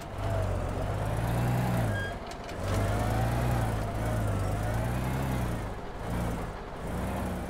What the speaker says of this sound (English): I'm going to take this dump truck and turn it around.